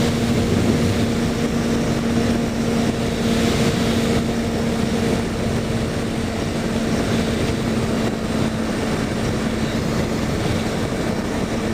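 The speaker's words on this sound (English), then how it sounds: "I just want to let this thing eat again. Just freaking wide open throttle." A car driven at wide open throttle near 150 mph down a bypass, heard from inside as a loud, steady roar of engine and road noise with a sustained droning tone and no letup.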